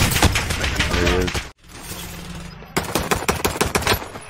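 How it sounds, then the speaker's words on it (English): Rapid automatic gunfire in a video game shooter comes in dense, loud bursts. It stops briefly for a moment, then resumes with sharp repeated shots. "Somebody shot me from the right."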